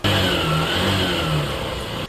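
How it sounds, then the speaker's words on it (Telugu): A motorcycle engine runs after an engine-flush treatment with a close, loud idle and a couple of slight revs that rise and settle, cutting off abruptly at the end. "ఇంజన్ షాంపూ వేసిన తర్వాత బైక్ అయితే అట్లీస్ట్ 5 minutes అయితే రన్ చేయాలి"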